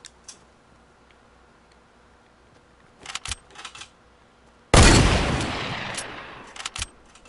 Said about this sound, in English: So I'm gonna distract them with some shots.